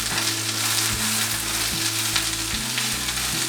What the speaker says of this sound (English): chop up some baby spinach. And wilt that up in the pan with the garlic